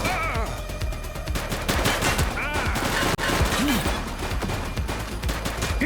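Dense, loud gunfire from the police video game The Precinct rattles in continuous bursts, with sirens and shouting voices mixed into the clamor throughout.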